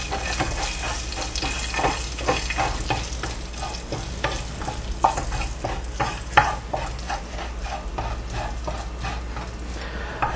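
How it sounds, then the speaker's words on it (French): Cinnamon, cardamom and cloves frying in a pan for royal rice, a steady close sizzle carrying repeated scraping stirs throughout, with no talking. "Nous allons les faire frire, nous allons les faire chauffer"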